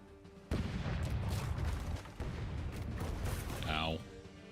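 Cannon fire from the pirate video game Rogue Waters, a sudden loud booming blast that rumbles on, then a second heavy burst, with a voice speaking briefly near the end.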